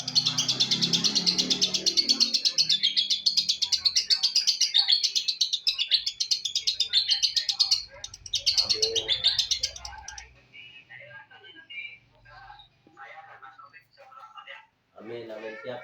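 A captive lovebird chirps in a rapid, continuous, high-pitched trill for about eight seconds, loud and close, then drops away as someone talks with only sparse chirps behind him.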